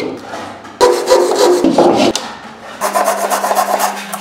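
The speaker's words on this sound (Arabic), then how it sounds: "نقطع الزيادة" A gypsum board strip on a classic ceiling rectangle has its excess cut off with a close, loud rasping, sawing scrape in quick strokes, with a short pause before a final steady stretch.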